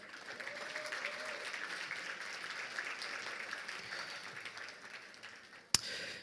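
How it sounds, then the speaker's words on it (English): Audience applause fills a luncheon gala hall, a steady wash of many hands clapping at moderate level for about six seconds before tapering, with one sharp louder clap near the end. "Please clap it up."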